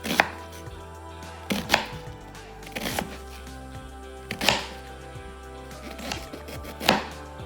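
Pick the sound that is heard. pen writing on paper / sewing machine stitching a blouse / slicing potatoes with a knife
slicing potatoes with a knife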